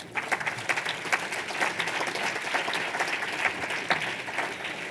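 An audience at a COP21 women's day event applauds women activists, with crisp, steady clapping from a sizable crowd, moderately loud and continuous for the whole stretch.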